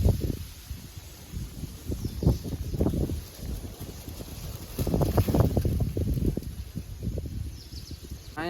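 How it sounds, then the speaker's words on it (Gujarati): Cool wind blows outdoors under a shaded shelter, with gusty rumbling buffets against the microphone that rise and fall irregularly, a faint high steady tone behind them and no speech. "અહીંયા છે ને ઠંડો ઠંડો પવન"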